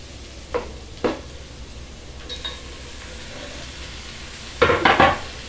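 Mutton hits browned onions in a pan on a high flame, giving a steady sizzle with a few sharp scrapes and clatters of a spoon, ending in a louder burst of stirring and frying near the end.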